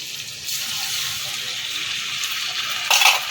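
Dried chilli paste sizzles in a pan for Chinese-style chilli garlic prawns, a steady close hiss that rises into a louder burst near the end.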